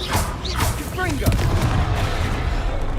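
A Confringo blasting spell bursts in Hogwarts Legacy amid a noisy fight, dense booms and crackles layered with game effects and a shouted voice, loud and continuous through the moment.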